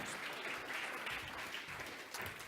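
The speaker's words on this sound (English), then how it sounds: "Give me a round of applause, everybody" Audience applause during an e-commerce business talk, a steady wash of clapping from a crowd that holds fairly even, moderately quiet, with no voices over it.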